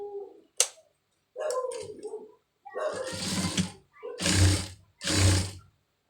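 A sewing machine stitches the side seam of a blouse, running in several short, close, loud bursts with a low motor hum and brief quiet gaps between runs.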